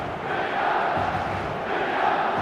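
Stadium crowd in the eFootball 2026 video game, a dense roar of many voices rising toward a pre-match crescendo, steady and distant-sounding throughout the short stretch.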